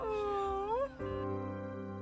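Kitten meowing in a parking lot: a single drawn-out, wavering cry rises and falls near the start, followed by a steady background hum.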